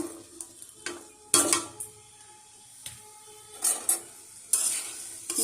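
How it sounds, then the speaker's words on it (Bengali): Pieces of boiled papaya are being stirred through sugar syrup in a pan. Irregular scraping and clinking strokes from a spoon come over a quiet, soft bubbling background. "এই চিনির রসের মধ্যে পেঁপে সিদ্ধ পেঁপেটা দিয়ে নাড়িয়ে চাড়িয়ে নিলে"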